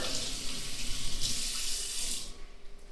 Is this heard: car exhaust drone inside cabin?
no